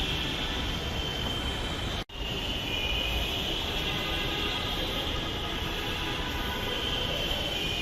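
A Dhaka metro rail train runs with a steady, even hum and soft rumble, fairly quiet and unbroken apart from one momentary dropout early on.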